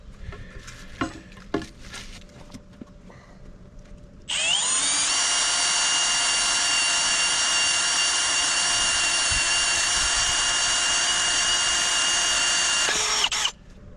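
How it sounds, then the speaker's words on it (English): A drill bores a through hole in a part for a gate. Quiet taps and handling noises come first, then a loud, steady high-pitched whine starts abruptly, runs for about nine seconds, and cuts off sharply. "now we can drill the through hole without having to worry about lining everything up again"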